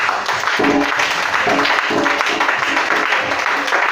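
A church congregation applauding during a worship service, a loud, steady wash of clapping that fills the room with voices mixed in.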